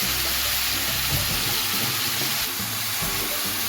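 Chopped ingredients for mutton kaleji gravy browning in hot oil, a steady close sizzle and crackle running unbroken with no voices.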